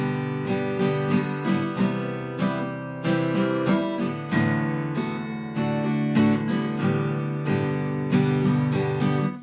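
Acoustic guitar strummed steadily and rhythmically, with chord changes formed while the strumming hand keeps moving; close, clear and alone, with brief gaps between phrases.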